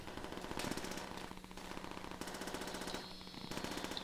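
Rapid automatic gunfire in World at War custom zombies, sustained bursts of rattling shots with brief gaps, steady and fairly loud throughout with no talk.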